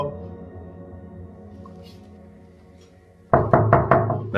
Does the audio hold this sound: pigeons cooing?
no